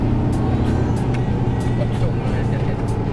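A remapped Mitsubishi Triton 2.5 pickup truck being driven hard, its steady, loud engine and road roar filling the cab without letup, with voices faintly under it.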